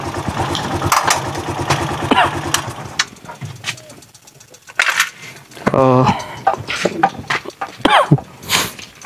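Motor trike engine pulling in low gear up a steep road, chugging unevenly and rising in bursts, with someone talking over it and birds chirping in the background.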